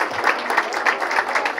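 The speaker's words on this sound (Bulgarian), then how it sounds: "Аплодисментите са за вас" Warm applause from an audience at a clinic celebration, a dense continuous patter of many hands clapping at moderate distance, steady throughout the short burst with no speech.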